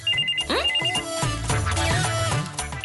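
A mobile phone ringtone plays loud and close, a bright repeating electronic melody with a short rising sweep, set against a low musical background with no talk.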